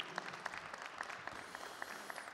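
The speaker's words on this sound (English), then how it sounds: "One more round of applause" Applause at a chamber of commerce awards ceremony in Harlem, a short stretch of scattered, fairly faint clapping with distinct individual claps.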